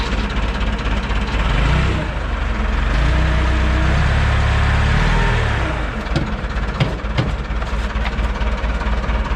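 Diesel engine of a rare Lull all-terrain forklift that sat for 25 years, running loud and close with a rough rumble that swells as throttle is given, then settles with some knocks and clatter.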